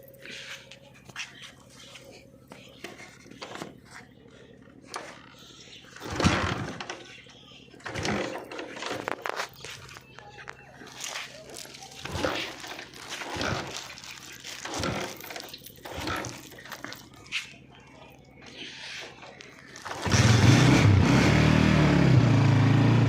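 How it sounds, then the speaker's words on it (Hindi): A motorcycle engine starts near the end and settles into a loud, steady idle after a stretch of scattered knocks and handling noises, with people talking faintly in the background. "मैं अबूनी को मोटरसाइकिल स्टार्ट कर देवा"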